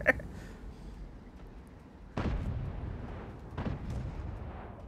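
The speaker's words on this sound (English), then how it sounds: "he is getting pelted by artillery" Artillery shells strike a tank in the World of Tanks video game, with two heavy booming impacts about a second and a half apart over a low rumbling background.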